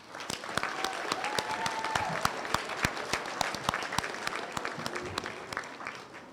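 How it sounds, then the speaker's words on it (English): Audience applause at a school awards assembly, a steady burst of many clapping hands at moderate distance, with sharper individual claps standing out and a faint voice briefly audible underneath. "Can we have one more round of applause?"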